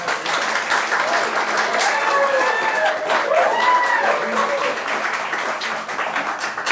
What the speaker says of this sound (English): I guess that crowd was clapping for me.